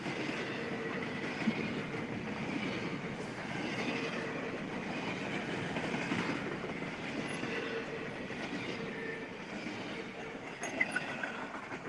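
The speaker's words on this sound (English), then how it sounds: "There's our northbound intermodal here across Caskey Road here in Hopkinsville, Kentucky on the CSX Henderson subdivision." A CSX northbound intermodal freight train rolls past a grade crossing at Caskey Road on the Henderson subdivision near Hopkinsville, Kentucky, with a steady rumble and wheel clatter through the whole stretch and brief squeals near the end, no voices.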